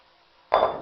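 A sudden splashing pour begins halfway through, a close rush of water, salt and potatoes tumbling into a pot after a quiet moment.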